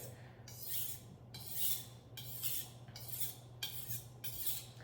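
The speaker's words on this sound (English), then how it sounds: "you can kind of hone it with a little circular motion along the stone" A kitchen knife drawn across a whetstone in repeated strokes, six rhythmic rasping scrapes close by with a low hum beneath, no talking.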